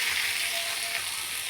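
Taki fish frying in hot oil for bharta, giving a steady, dense, close sizzle that holds without a break throughout.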